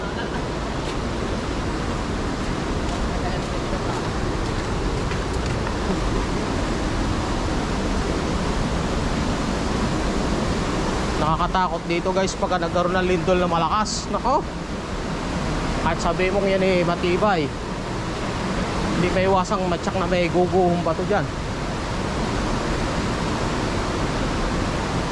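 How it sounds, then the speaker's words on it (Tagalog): Steady broadband rush of water pouring over a spillway in Wawa, Rizal, Philippines, a constant roar running throughout with people talking over it in several stretches. "naririnig yung lagas-las ng tubig."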